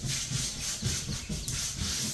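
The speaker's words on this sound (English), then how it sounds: "glue that are softening up and scrubbing off" Softened old glue being scrubbed off a surface during a back-room renovation, a close, steady run of quick rhythmic rubbing strokes with no talking.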